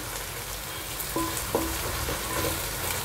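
Onions and green chillies frying in hot oil for a mutton curry, giving a steady close sizzle with brief stirring clinks and no talk over it.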